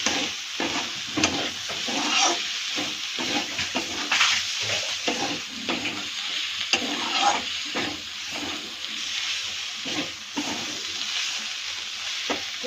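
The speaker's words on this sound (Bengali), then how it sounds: "ধনেপাতা ছিঁড়ে দিয়ে একটু নাড়াচাড়া করে নেব।" Vegetables fry and sizzle in a pan as torn coriander leaves are stirred in, a steady crackle with repeated scraping strokes of the spatula at close range, no voices.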